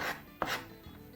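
A knife chopping onion into small cubes on a board, two quick close cuts with a brief scrape between them.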